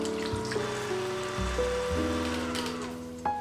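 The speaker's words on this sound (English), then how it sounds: "We will start by beating the egg white over high speed for about 30 seconds until foamy." An electric hand mixer whirs steadily at high speed, beating egg whites for a vanilla sponge cake, its motor pitch shifting a few times as the beaters move through the bowl, close and continuous with no talking.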